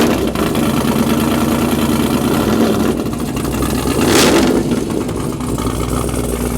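A car engine runs loud and close with a steady low rumble, rising briefly in a rev before settling back.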